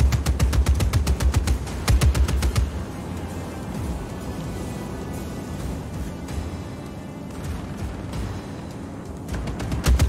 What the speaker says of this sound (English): Oh, he's still shooting at me.